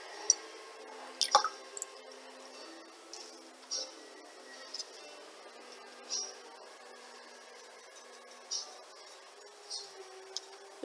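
A wet sponge dabs paint onto a tumbler during a Carrara marble painting job, making soft, moist squishing taps at irregular intervals, close up and quiet, with a faint hum underneath.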